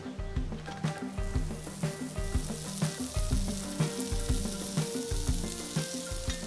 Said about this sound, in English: So chop it up like this, look, roughly about 1 centimeter little cube, straight into a very hot pan.